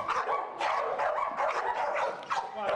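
Several dogs barking and yipping in repeated bursts, with some whimpering, during a dog training session; moderately near and fairly steady throughout.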